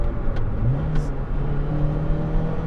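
A Lotus Elise engine revs up hard toward 8,500 rpm, its pitch climbing and then holding high as the car accelerates, loud and close.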